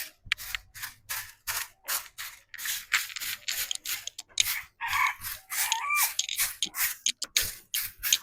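Backyard chickens behind a house, with rooster-like calls and scratching, rustling bursts repeating in an irregular rhythm, fairly close and moderately loud, no talking.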